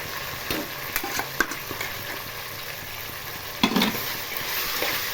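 A spoon stirs ginger garlic paste and chopped coriander in a pressure cooker for prawn biryani. A steady sizzle runs throughout, broken by scraping strokes and a louder clatter partway through.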